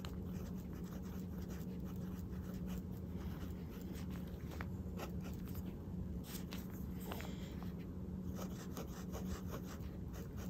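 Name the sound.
writing with Lamy Al-Star fountain pen, fine nib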